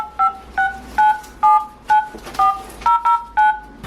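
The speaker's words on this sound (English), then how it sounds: "Go ahead and enter the phone number you want to work with." Telephone keypad DTMF tones dial a number, about a dozen clean, evenly spaced beeps in an irregular rhythm, loud and close, with no talk over them.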